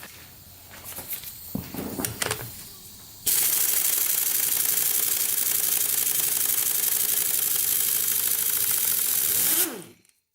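Craftsman air tool at 115 psi removing the flywheel of a modified Polaris Outlaw 500 quad, a loud sustained rattling hammer lasting several seconds and then cutting off, after some clanking and handling noises, close up.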